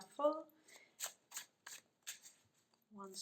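Tarot cards are shuffled in quick, crisp bursts, about five short riffling swipes close to the mic, bracketed by brief speech at the start and end.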